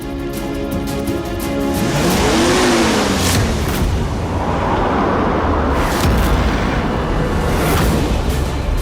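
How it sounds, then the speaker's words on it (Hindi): A car speeds toward a house at night, its engine roaring loud and close as it approaches, with a rising, then falling pitch over a steady heavy rumble. "ये कौन पागल है जो इतनी रात को इतनी तेज गाड़ी चला के आ रहा है?"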